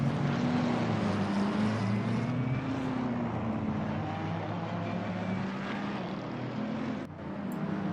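Several GT3 racing car engines in a sim racing video game drone together at steady, high volume as the cars pull away from the grid at Spa, a dense roar with wavering engine tones throughout.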